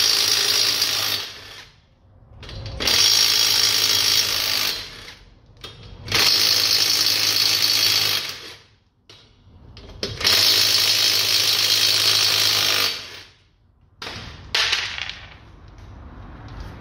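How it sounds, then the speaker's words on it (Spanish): Wheel bolts of a Renault Clio DCI K9K being removed with a power tool, four long loud whirring bursts of a couple of seconds each, separated by short pauses, close up. "Vamos a quitar la rueda."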